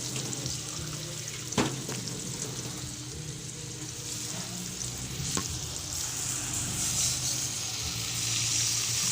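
Water poured into a frying pan of sizzling ground pork and eggplant with tomato paste, giving a steady close hiss and crackle broken by a couple of sharp clinks.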